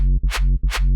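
Heavily distorted dubstep bass built from layered wavetable synths, with a deep sustained low tone and two loud, harsh wobbling bursts that snarl through the upper range in a steady rhythm, played alone.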